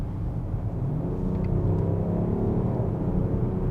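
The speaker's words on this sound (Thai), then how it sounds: "ผมกดคันเร่งให้ฟังเสียงสักนิด" A BMW X7 M50d diesel SUV engine rumbles low and steady, swelling slightly as the accelerator is pressed, heard from inside the cabin with no talk.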